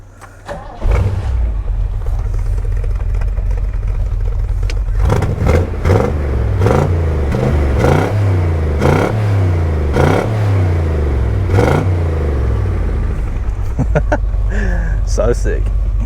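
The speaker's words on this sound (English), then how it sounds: "So let's do a cold start." A 4WD truck engine cold-starts with a sudden crank and catch, then idles roughly with repeated revs rising and falling, loud and close, with voices talking over it.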